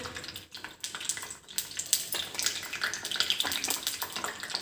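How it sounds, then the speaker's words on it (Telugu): Mustard seeds with black gram and chana dal sizzle and crackle in hot oil in a home kitchen, a dense, fairly quiet hiss with scattered pops running throughout, no talking. "ఆయిల్ వేసిన తర్వాత అది కొంచెం వేడెక్కిన తర్వాత కొంచెం ఆవాలు, కొంచెం మినపప్పు, కొంచెం శనగపప్పు"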